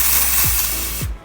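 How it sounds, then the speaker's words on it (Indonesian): Dry shampoo hisses from an aerosol can onto hair in one steady, loud, close spray that cuts off abruptly after about a second, with two soft low thumps underneath. "Dan sebelumnya kita harus shake dulu dry shampoo-nya, baru kita semprotin."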